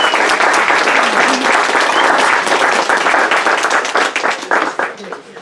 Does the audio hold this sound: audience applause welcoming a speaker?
yes